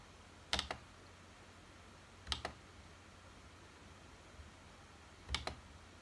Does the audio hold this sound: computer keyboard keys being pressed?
yes